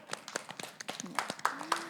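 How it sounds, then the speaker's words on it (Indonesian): A church congregation claps hands together at the close of a sermon, short bursts of clapping mixed with voices talking over it. "Mari tepuk tangan dulu."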